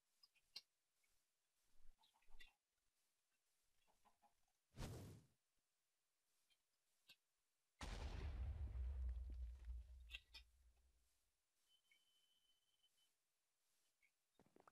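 Chickens in Minecraft Sky Wars, with faint scattered clucks over near silence, a sharp burst partway through and then a loud, longer rumbling blast that fades away.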